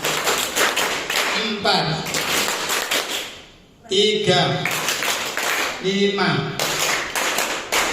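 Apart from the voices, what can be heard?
rhythmic group hand clapping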